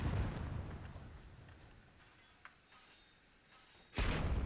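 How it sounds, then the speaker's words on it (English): A cannon fires in the World War II mod of the strategy game Myth II: Soulblighter, with a sharp distant-sounding shot, a brief pop, then a loud heavy burst near the end. "Nice cannon shot there from Scratch"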